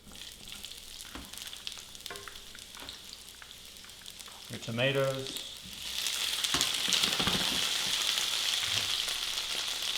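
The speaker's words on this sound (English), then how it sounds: "Go ahead and throw your onion in. You'll hear a sizzle." Chopped onion hits smoking-hot oil in a pan, and a loud, bright sizzle bursts up midway and keeps hissing steadily to the end, with a person talking and some utensil clatter before it.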